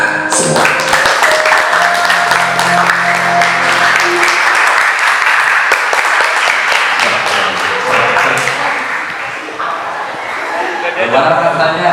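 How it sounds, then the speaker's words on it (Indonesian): A group in an Indonesian teacher-training session applauds together, steady clapping filling most of the stretch and fading slightly near the end, with voices, a sustained tone and scattered yips mixed in at the start. "Kasih tepuk tangan untuk kita semua"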